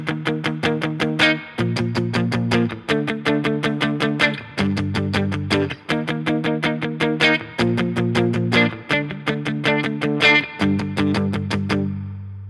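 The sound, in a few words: electric guitar chords played with palm muting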